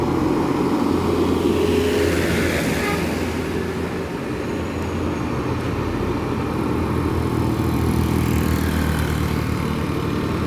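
A loaded cement truck labors up a steep climb, its engine a steady, heavy low drone that holds fairly loud and constant throughout, with road and traffic noise mixed in and no talk.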